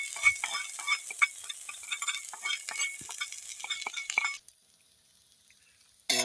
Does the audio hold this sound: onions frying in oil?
yes